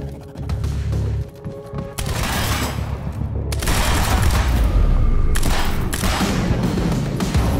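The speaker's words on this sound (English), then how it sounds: "Cover me! Suppressing fire!" Sustained suppressing gunfire in the video game Quantum Break, a loud continuous fusillade of rapid shots and booms that briefly dips near the two-second mark, then returns denser and heavier to the end.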